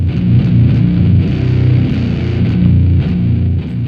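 Electric guitar played through a Hizumitas fuzz pedal into a SUNN Model T amplifier, a thick, loud, saturated fuzz tone with sustained low chords and steady rhythmic strumming throughout.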